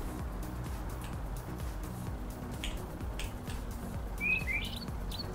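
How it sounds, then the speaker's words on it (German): Bird in Farming Simulator 19 giving a couple of short, high chirps near the end, faint over a low steady rumble of background machinery and ambience. "Genau, Vogel, hast recht."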